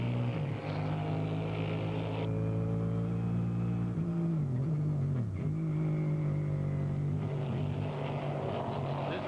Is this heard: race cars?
yes